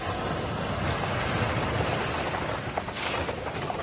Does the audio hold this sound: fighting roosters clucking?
no